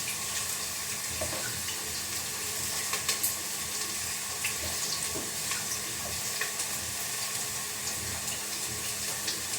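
Onions frying in a pan in a home kitchen give a steady low sizzle, with faint clinks and water-like hiss running through it, and no one speaking.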